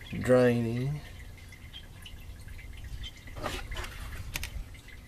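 Fuel drains from the tank of a Volvo 700/900-series car during in-tank fuel pump replacement, heard as a soft, steady liquid trickle and dripping after a brief voice at the start.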